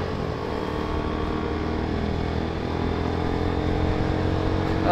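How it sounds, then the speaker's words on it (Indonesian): Motorcycle exhaust rumbling steadily at idle during warm-up, a deep bassy and rounded tone that holds close and even before swelling slightly near the end. "Saya sih seneng suaranya nih, suara knalpotnya."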